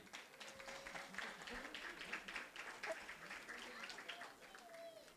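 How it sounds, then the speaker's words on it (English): Applause for a Quran competition winner, scattered hand clapping from a modest audience, fairly faint and continuous, with some voices beneath it. "Another round of applause for Sister Sahel."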